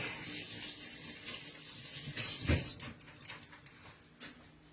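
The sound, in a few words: rinsing hands under running tap water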